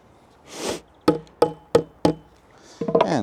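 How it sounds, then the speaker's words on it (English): Hammer striking a fitting while building a wooden playground, four sharp, evenly spaced knocks up close after a brief scrape, followed by a quick flurry of lighter taps. "And give it a hammering."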